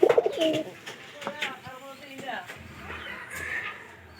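A pigeon coos close by in a home setting, a few soft rounded calls near the start, while people talk over and around it.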